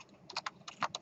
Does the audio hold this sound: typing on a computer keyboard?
yes